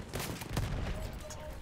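A heavy tank fires in Battlefield 1, heard as a brief burst of booming gunfire with clustered sharp cracks, moderately distant and fairly faint amid battle noise.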